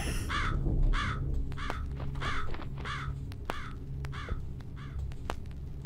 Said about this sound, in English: someone tell that crow to show up.